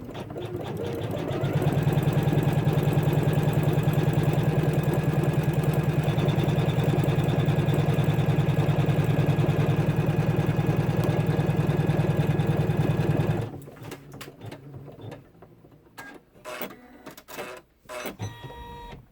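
An embroidery machine stitching a tack-down run on a towel keeps up a loud, rapid mechanical chatter for about thirteen seconds, then stops, leaving quieter handling clicks and knocks.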